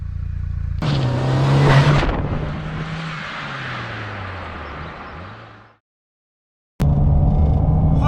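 A Fiat Cinquecento Sporting rally car's engine revs hard and then drops away as the car passes close by. After a brief silence, another loud burst of engine noise follows.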